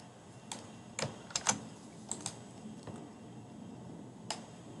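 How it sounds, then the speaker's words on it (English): Someone types code on a computer keyboard, with sparse, irregular key clicks, a few in quick clusters, sounding close and clear against a quiet hiss with no talking. "In the source files, in the main, type your code here."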